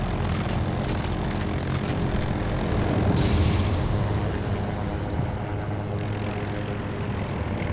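An MD540 Nightbird helicopter in the video game Battlefield 2042 drones loudly and steadily with a rotor-and-engine roar and a brief swell midway.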